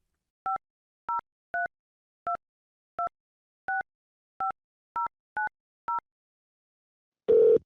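A telephone call being placed: ten short, evenly spaced two-tone dialing beeps sound clearly in near silence, followed by a brief louder burst at the end.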